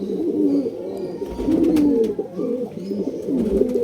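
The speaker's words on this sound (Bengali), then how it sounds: "এগুলো সবই নর পায়রা আছে" Male pigeons in a Kolkata loft coo in low, repeated throaty rolls, several birds overlapping close to the listener with faint rustling between calls.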